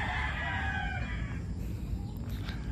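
Backyard chickens, hens and a broodcock, clucking with a rooster crowing, faint and somewhat distant over steady low farmyard noise, no one talking.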